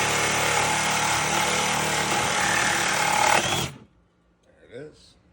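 A power saw cuts loudly and steadily through a seized Subaru control arm bolt for a few seconds, grinding hard before cutting out abruptly; brief faint voice-like sounds follow in the quiet.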